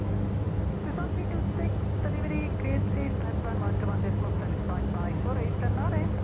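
The Dash 8 Q400 turboprop in X-Plane 12 drones steadily throughout, a continuous engine hum during approach as the landing gear goes down, while someone talks over it.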